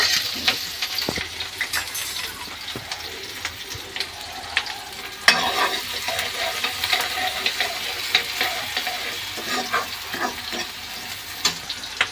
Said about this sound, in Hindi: और इसको भून लेते हैं अच्छे से